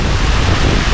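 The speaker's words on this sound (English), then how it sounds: "The wind is nice, right?" Wind gusts across a microphone on a boat ride to Pagsanjan Falls, a loud, continuous broadband rush with steady buffeting and no voices.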